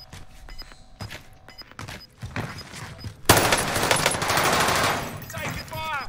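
Gunfire in Call of Duty: Warzone on Rebirth Island: scattered single shots and footsteps, then a sustained, loud burst of automatic fire close by, with faint game voices.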